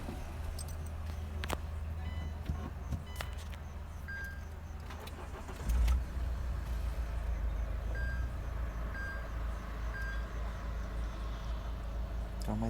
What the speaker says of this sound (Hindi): तो हमारी कार स्टार्ट हो चुकी है